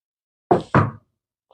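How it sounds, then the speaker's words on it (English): Two crisp, close knocks on a car window, sharp raps in quick succession against silence. "get down to knock on the window of Par's car"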